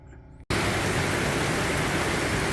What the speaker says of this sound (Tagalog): Buhos na ulan. Grabe ang ulan, oh.